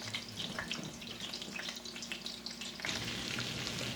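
Homemade meatballs fry in a pan over raised heat, a steady close crackling sizzle with scattered pops that grows slightly louder and denser toward the end.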